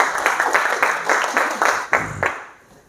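A small audience at a training workshop claps in a handful of sparse, evenly spaced claps that thin out and fade toward the end.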